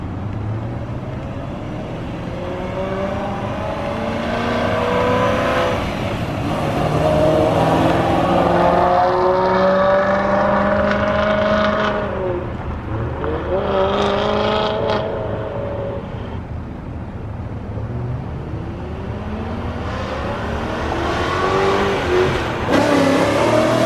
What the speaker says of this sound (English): I have some clips, some flybys that I did outside as it was getting dusk.